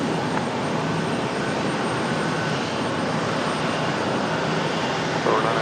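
A plane taking off at Raleigh-Durham airport makes a loud, steady, broadband engine roar that holds level throughout, without a break, with a faint radio voice underneath.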